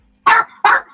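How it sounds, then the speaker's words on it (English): A house dog gives two loud, close barks in quick succession, each sharp and fairly full-bodied, with a short quiet gap between them and no voices. "Sorry, I apologise about the dog."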